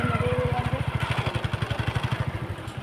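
A motorbike engine putters steadily at close range while riding through a crowded village fair with rides like a break dance and toy train, its rapid even pulsing beats continuous over murmuring crowd noise.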